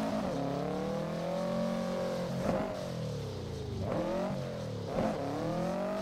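Subaru all-wheel-drive car engine in a racing video game, drifting on snow: a steady revving drone whose pitch slides down and climbs again in three waves, with brief bursts at each shift, loud and close, no talk.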